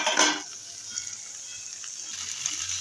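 Pieces of jackfruit and potato drop into a hot pan for chicken curry, a brief clatter and hiss at first, then a soft steady sizzle of frying.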